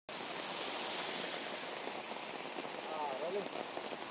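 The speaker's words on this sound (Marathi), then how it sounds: "पावसाच्या सरी बरसताना आपल्याला पाहायला मिळत आहे" Steady rain pours down in Mumbai outside the municipal corporation building, a dense continuous hiss of drops on surfaces filling the whole clip, with brief faint voices in the background near the end.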